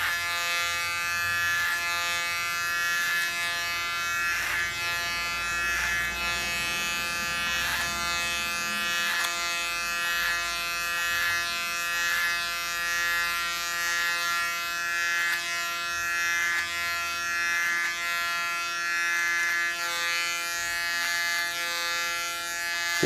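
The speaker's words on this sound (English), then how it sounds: "Take a small part behind the ear. Use the clipper as a comb." Electric hair clipper buzzing steadily and close up while trimming a small section of hair behind the ear clipper-over-comb, a continuous whine that holds for the whole stretch with slight wavering as it moves through the hair.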